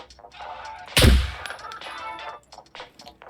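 A single loud, sharp rifle shot from the survival game SCUM, fired from a prone position, with a sudden blast and a decaying tail, preceded and followed by quieter ambient game sounds.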